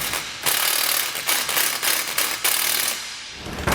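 Factory bolt being tightened on a Timbren rear suspension enhancement system, a steady run of rapid mechanical ratcheting clicks close up, with brief pauses between bursts and no talk.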